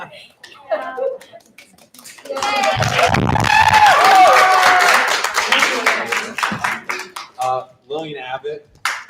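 A school Thespian Award night audience bursts into applause and cheering mid-clip, a dense crowd roar with clapping lasting several seconds, framed before and after by a voice talking over a microphone and scattered chatter.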